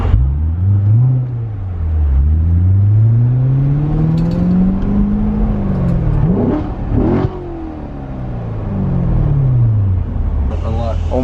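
Corvette C7 engine with paddle-shift rev control, rising and falling in long continuous revving sweeps, loud and close throughout, with people talking over it.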